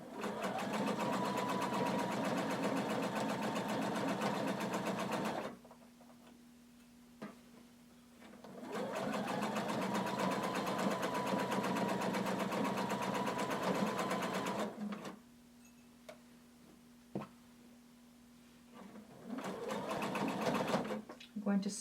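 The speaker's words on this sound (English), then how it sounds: "And you're going to sew all the way around." A sewing machine stitches around a hooded tunic in long steady runs of rapid mechanical whirring, about five seconds each, separated by pauses and a few soft clicks, close and fairly loud.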